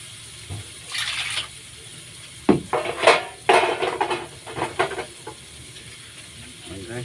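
Pots and pans clatter while San Marino is cooked, with metal utensils scraping and clinking in irregular bursts over a soft background hiss.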